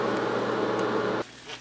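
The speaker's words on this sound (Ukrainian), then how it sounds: "вентилятор." An apartment bathroom ventilation fan runs with a steady whirring hum close by, then cuts out abruptly, leaving quiet room tone.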